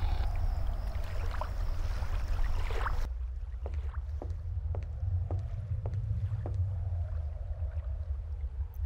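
A boat in the video game Concluse 2 moving through water with a steady low rumble, wind noise and sloshing, plus a series of soft clicks in the second half.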